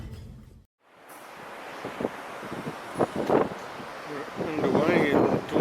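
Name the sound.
wind blowing into microphone on boat deck at dawn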